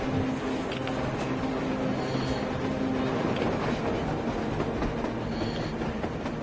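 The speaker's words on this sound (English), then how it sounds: "A train! A damn train on the surface!" A train running on the surface in the video game Metro Exodus, a loud continuous rumble with faint rhythmic clatter, steady and fairly close, with no voices.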